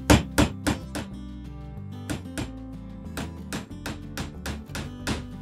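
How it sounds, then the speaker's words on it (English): A hammer drives nails into a wooden board for monogram string art, with a series of sharp, ringing strikes, some in quick pairs and others spaced out, close and distinct with no talk. "Center up your pattern on the wood, and then you're going to want to start by nailing in"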